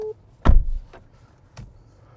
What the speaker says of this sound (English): I've never known a door that sounds so much like it's not quite closed properly.